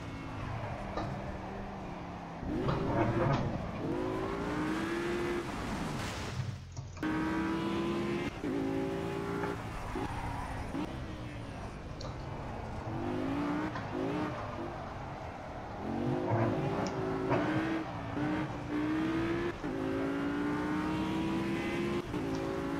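Audi R8 in Project Cars, engine revving and rising through gears with tire squeal as the car slides, a continuous loud in-game engine drone with repeated accelerating sweeps.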